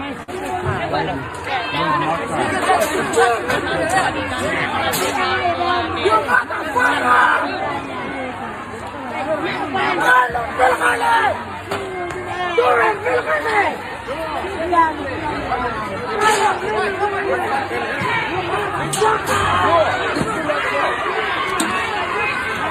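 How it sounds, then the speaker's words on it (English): An angry, chaotic crowd at a street protest where cars are being smashed and a police car set on fire: a dense, continuous babble of many voices, fairly close, with shouts rising and falling throughout. "Very angry crowd."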